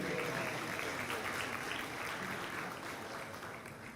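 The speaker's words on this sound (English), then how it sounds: "Let's give a round of applause for that, ladies and gentlemen." Audience applause at the Indonesia-Europe Investment Summit 2024, a steady broadband patter of many hands filling the room, fairly quiet and slowly fading toward the end, with no talking over it.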